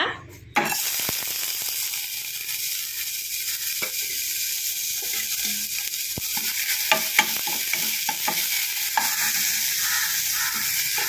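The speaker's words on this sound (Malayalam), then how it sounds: "വാഴച്ചുണ്ട് ചെറുതായിട്ട് അരിഞ്ഞെടുക്കുക എന്നിട്ടത് നെയ്ക്കകത്തൊന്ന് വറുത്തെടുക്കുക" Finely chopped banana flower sizzles steadily in hot ghee, a dense continuous frying hiss with occasional stirring scrapes and clinks from the pan, close and loud throughout with no talking.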